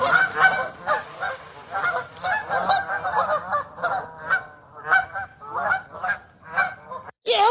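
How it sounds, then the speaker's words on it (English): Geese honk and quack in a steady stream of loud, close calls that overlap and repeat throughout, ending in a brief pause. "The geese, they honking and quacking."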